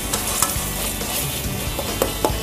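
Minced chicken keema stirred in a frying pan, giving a loud continuous sizzle with repeated scraping strokes of a spatula and a few sharper knocks near the end.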